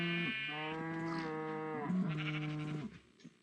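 A video game cow lets out a long, drawn-out moo, then a second lowing call right after, close and clear with nothing else around it.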